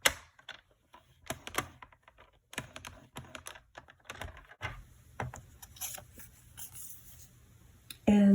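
Paper for a pop-up Christmas tree card is creased with mountain folds, giving a series of crisp, close crackles and sharp rustling clicks in irregular bursts, separated by brief quiet gaps.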